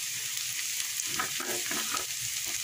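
Bitter gourd with plenty of onion and garlic frying in a generous amount of oil, giving a constant close hiss of sizzling with soft stirring scrapes in the middle, and no voices.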